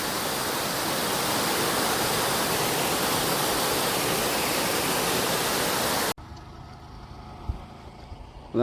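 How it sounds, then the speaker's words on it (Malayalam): Water tumbling down from the top of a waterfall at Chengara makes a loud, continuous roar for about six seconds, then cuts off abruptly to a much quieter outdoor background with faint scattered sounds. "അങ്ങ് മണ്ടേന്ന് വെള്ളം ഒലിച്ചിങ്ങനെ വരുവാണ് കേട്ടോ"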